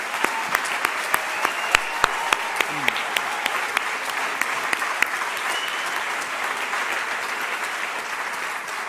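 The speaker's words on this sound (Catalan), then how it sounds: "A tots ells, un aplaudiment i moltíssimes gràcies." Audience at a radio awards ceremony applauding, a full, sustained crowd ovation with a few sharp, close claps standing out in a regular rhythm early on before blending into the wash.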